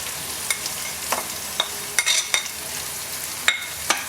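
Samosa filling frying on a low flame, with a steady soft sizzle broken by sharp scraping stir strokes against the pan, several close, distinct spatula clicks spread through the clip.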